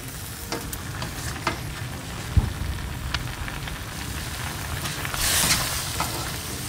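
Shrimp stir-fry sizzling steadily in a hot pan over several seconds, with occasional clicks and scrapes of a utensil and a brief louder hiss surge.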